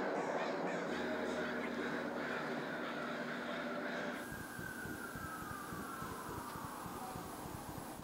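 Crows cawing outdoors, harsh calls mixed into a wash of steady background noise, moderately distant with no clear speech.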